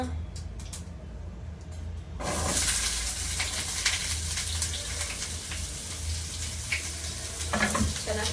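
Chopped onion hits a hot pan in a home kitchen, set up for an okra dish. The loud, broad frying sizzle bursts in and keeps hissing steadily, with faint stirring scrapes.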